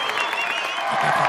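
A live stage audience at a comedy troupe performance in Mahabubnagar claps loudly and steadily, a dense wash of applause filling the whole short moment.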